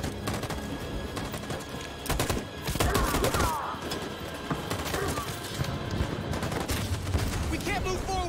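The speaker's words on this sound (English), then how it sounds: "That machine gun is taking down everything that moves!" Machine gun fire in Detroit: Become Human, a rapid, sustained burst of shots mixed with other gunfire and battle noise, with shouted voices over it.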